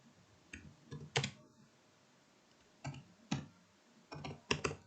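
Computer keyboard typing while writing HTML, heard as sparse, quiet clusters of keystrokes with long gaps between them against a soft background hiss.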